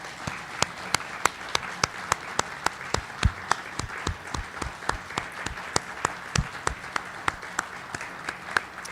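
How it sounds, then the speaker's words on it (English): Audience applause for veterans at a Pearl Harbor Day ceremony: steady clapping throughout, with a few loud, sharp nearby hand claps standing out in a regular rhythm above the crowd. "Let's give all these folks a round of applause"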